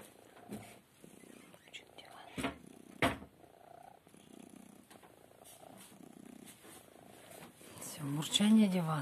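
A purring cat tucked beneath a bedsheet on a couch rumbles steadily nearby, broken by a few sharp rustles of cloth, and a soft voice murmurs toward the end.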